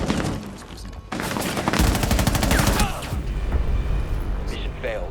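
Rapid automatic rifle bursts in the video game Rainbow Six Siege, a dense rattling volley of close shots lasting a couple of seconds, followed by further impacts and game effects, with a voice talking over it.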